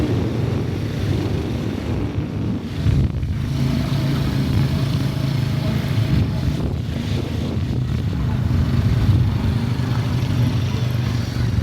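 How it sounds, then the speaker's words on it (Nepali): A motorcycle engine drones steadily at a constant pitch while wind rushes across the microphone, a continuous ride with no pauses. "बाइक मजाले कुदाउनु थाल्दा खुसी लागिरहेको छ"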